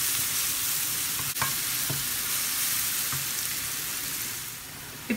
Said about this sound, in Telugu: అల్లం వెల్లుల్లి పేస్ట్ పచ్చివాసన పోయే వరకు వేయించుకుందాము.